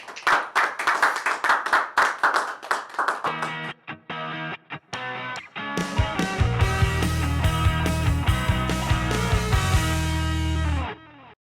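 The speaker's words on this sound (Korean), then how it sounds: "수고해 주신 김석표 후보님께 격려의 박수 부탁드리겠습니다." A crowd claps for a candidate at the close of a Korean social workers' association presidential election forum, a burst of close applause that turns into a sustained, loud, musical-sounding passage toward the end.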